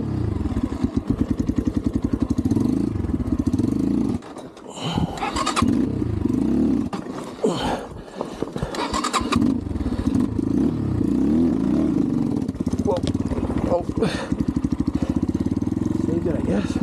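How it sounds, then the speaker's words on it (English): A TemplarX 250 motorcycle engine revs high and steadily, loud and close throughout, with brief dips and clattering while someone talks over it. "Got to rev it high to get the wheel speed."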